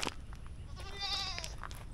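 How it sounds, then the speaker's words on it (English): A goat in a village on the edge of Kuching, Sarawak, gives one wavering, mid-length bleat close by, with faint outdoor background noise and no speech. "I don't even know how to interact with a goat"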